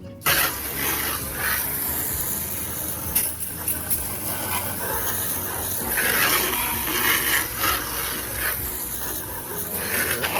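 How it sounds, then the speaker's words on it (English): Water spraying steadily over a car engine bay to rinse off gunky, foaming degreaser, a continuous close hiss and splash running the whole time with no talking. "It takes a lot of rinsing to get this stuff off because it is gunky."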